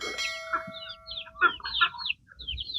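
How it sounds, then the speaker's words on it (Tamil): A caged Pollachi kuruvippoo rooster on a farm gives short clucks and calls, mixed with higher chirping from other birds nearby, all at modest volume with no one speaking. "இப்போ இந்த கூண்டுக்குள்ளே ஒரு சேவல் வச்சுருக்காங்க"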